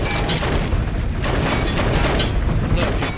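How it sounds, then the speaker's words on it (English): Gunfire and booming blasts from enemies shooting back in the Wii shooter Red Steel, a dense, continuous barrage of loud bursts with no pauses across the short stretch. "No, people are actually shooting back."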